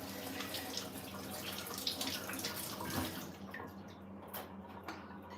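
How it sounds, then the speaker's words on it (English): Running tap water splashes steadily over hands being washed in a sink, close and continuous at a soft level. "My hands are clean, but I need to wash again."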